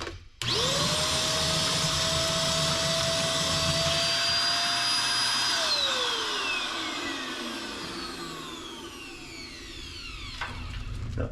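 A Vanpore ash vacuum starts up with a loud whine and rush of suction, cleaning wood stove ashes close by, then its pitch drops as it winds down near the end.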